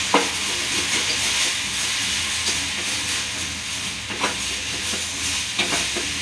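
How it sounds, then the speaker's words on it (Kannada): Tomatoes, onions, garlic and coriander powder frying in a pan for brinjal masala curry: a steady, loud, close sizzling hiss that runs without a break, with a few soft stirring scrapes. "ಇದನ್ನೆಲ್ಲ ಚೆನ್ನಾಗಿ ಫ್ರೈ ಮಾಡ್ಕೊಳ್ಳಿ."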